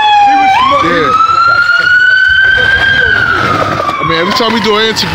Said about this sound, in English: this goddamn ambulance come through, man